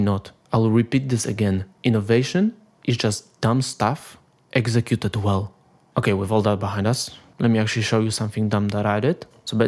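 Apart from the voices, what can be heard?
No everyday noise stands out behind the speech.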